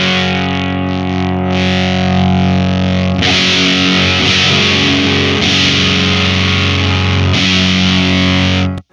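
Distorted electric guitar played through a Benson Amps germanium fuzz pedal set to low impedance, giving thick, saturated sustained chords with a few loud restrikes, steady and up close with no talking.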